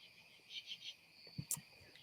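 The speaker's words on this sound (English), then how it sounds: "I'm glad you're enjoying the ambiance of the crickets in the background." Crickets chirping faintly in the background, a few quiet pulsed trills followed by soft scattered clicks and knocks, all low in level.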